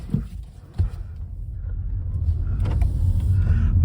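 A car pulling out and driving off, its engine rumble building steadily from low to a louder sustained drone, with a couple of brief knocks early on.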